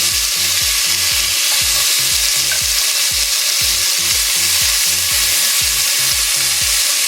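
Oxtail pieces sear in a hot pot for authentic Jamaican oxtail, giving a loud, steady, close sizzle with a regular low thumping pulse running underneath throughout.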